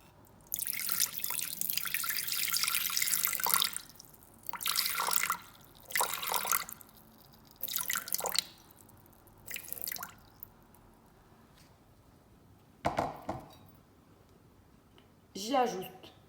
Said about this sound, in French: je vais sur ma balance et je mets 150 g d'eau